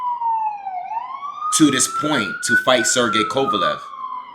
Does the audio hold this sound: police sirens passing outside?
yes